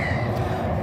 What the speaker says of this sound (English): You can hear the birds more than anything.